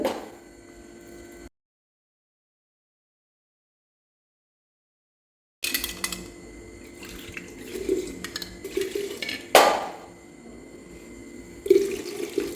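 Water pours into a clay pot for a traditional colocasia stem soup. A short splash is followed by silence, then irregular sloshing and trickling with a few louder splashes and knocks.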